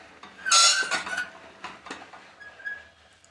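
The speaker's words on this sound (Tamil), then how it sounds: "இப்போ நம்ம இதை மூடி வச்சிடலாம்." A metal lid set onto a cooking pot of vegetable biryani, with a loud clanking scrape followed by a few lighter clinks and a brief squeak, heard close by with no talk.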